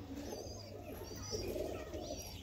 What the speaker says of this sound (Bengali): এটা কিন্তু খুব সুন্দর পায়রা মোটামুটি, তোমরা দেখতে পারো।